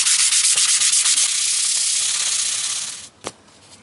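Sandpaper, 180 grit, rubs back and forth along an old Stratocaster guitar neck in quick, loud, close strokes that slow and fade, ending with one brief scrape.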